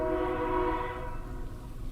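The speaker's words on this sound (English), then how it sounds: "Oh, there's the Vallaki train coming." A train horn sounds in a single long, loud, steady blast that holds for about a second and then fades and thins as it goes on, with no voices over it.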